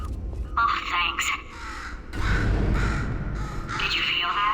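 A crow caws a few times in a video game, the harsh calls rising over a steady rumbling ambience while a character speaks throughout.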